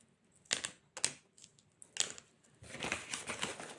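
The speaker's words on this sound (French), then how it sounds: "J'espère que le bruit des opercules, ça vous gêne pas." Pills pushed one after another through the foil of a blister pack, giving several sharp crackling pops close up, then a denser run of crinkling foil toward the end, with no talking.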